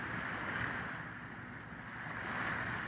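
A sailboat under way on open water during a cruise, with steady wind rushing over the microphone and a continuous wash of waves along the hull, no voices.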